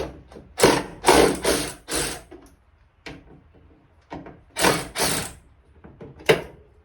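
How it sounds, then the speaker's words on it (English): A ratchet works loose the hood bolts on a 1993–2002 Camaro, clicking in several quick bursts of rapid ratcheting separated by pauses, close and crisp with no talk. "loosen these two bolts where it connects to the hood"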